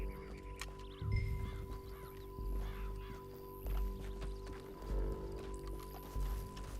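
A horse's hooves clip-clop at a steady pace in the PS5 video game Red Dead Redemption 2. The hoofbeats sit under a soft layer of game music and ambience.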